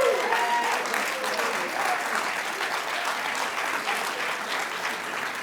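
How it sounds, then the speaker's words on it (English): An audience claps steadily at an investor panel event, a dense, sustained round of applause that stays even throughout. "We can give them all a round of applause"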